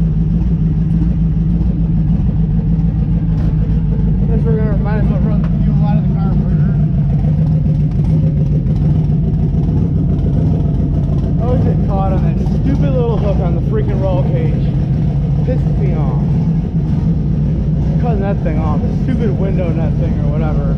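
A car engine idles and rumbles steadily and loudly throughout, with occasional voices talking over the drone.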